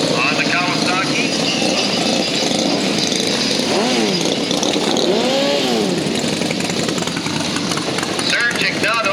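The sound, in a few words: Kawasaki motorcycle racing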